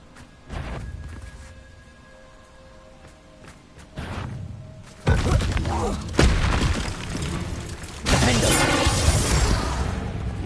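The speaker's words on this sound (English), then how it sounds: "Bombarda! Confringo!" Bombarda and Confringo spell blasts in the video game Hogwarts Legacy build from soft thumps into loud booming, crashing explosions with a shattering, rumbling spread that stays heavy and sustained toward the end.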